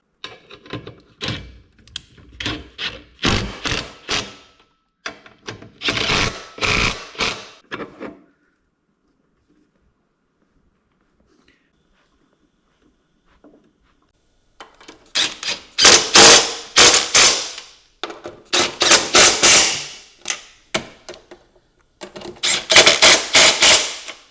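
A ratchet snugs trailer hitch bolts on a Cadillac Vistiq, with bursts of rapid, loud clicking cranks up close, separated by a quiet pause before more vigorous ratcheting runs.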